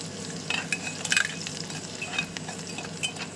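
Garlic sizzling in hot ghee as a tempering for jeera rice, a crackling fry with the scrape and clink of a spoon stirring the pan at intervals, close up and with no talk.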